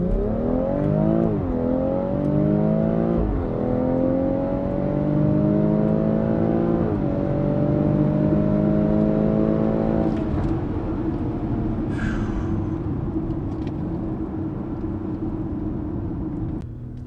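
BMW X3 M40i launching hard from a standstill, engine revving up with rising pitch through gear changes, loud and close, then settling into a steady rumble as it pulls away.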